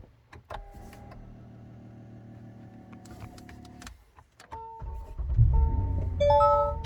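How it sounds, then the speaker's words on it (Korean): Ignition of a late-model Genesis BH sedan in top Royal VIP trim: steady electronic whirring and hum from inside the cabin, then a deeper low rumble as the engine catches, with bright chime tones near the end. "자, 시동을 한번 걸어 보겠습니다."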